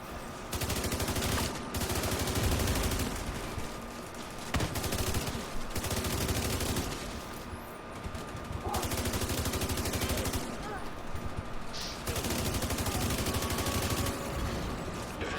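Repeated bursts of rapid automatic gunfire as players shoot the Boomer enemy in The Division 2, loud and sustained in several long volleys separated by brief lulls, with faint talk mixed in.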